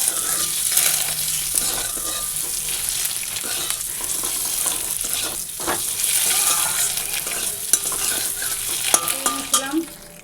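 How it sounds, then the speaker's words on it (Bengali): Eggs fry in oil in a pan with a constant crackling sizzle, broken by stirring scrapes and light utensil clinks against the pan, closing with a few sharper knocks. "তিনজনের জন্য ডিম ভেজে নিচ্ছি"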